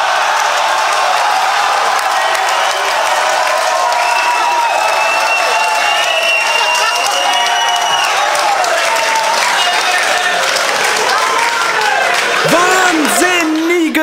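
Applause and cheering from an audience at a German-language rap battle, clapping spread steadily across the whole stretch with crowd noise and a voice talking over it near the end.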